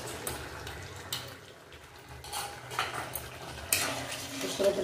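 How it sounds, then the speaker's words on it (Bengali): A utensil stirs mustard paste into cooked bottle gourd in a pan. It makes soft, uneven scraping strokes with light clinks over a faint simmer, fairly quiet and without talk. "সর্ষে বাটাটা সুন্দর করে মিশিয়ে দেবো"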